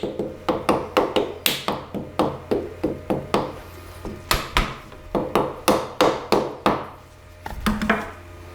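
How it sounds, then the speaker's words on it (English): Repeated sharp taps seating a wheel balancing ring on a Herbert Junior Mk2 surface grinder, about two dozen close, evenly spaced metallic knocks with a short pause near the end, no talk. "Tap that down in place."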